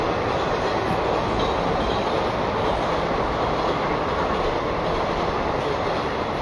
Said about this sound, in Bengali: এখনও প্রায় আমি ট্রেনের আওয়াজটা পাচ্ছ তোমরা